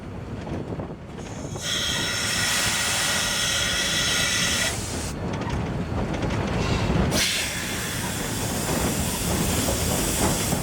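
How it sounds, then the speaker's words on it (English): Steam hisses loudly from a valve on a Nevada Northern steam locomotive, a strong broadband rush that swells in bursts, drops briefly around the middle, then resumes steadily alongside rail and wheel noise. "We only want enough steam to open that valve."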